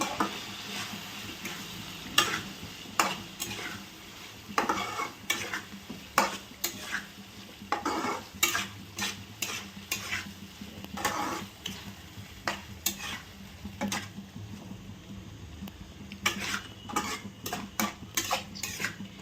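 Prawns stirred with mashed gongura leaves in a pan: repeated spatula scrapes and clinks against the metal over a soft sizzle, close and irregular, with no voices.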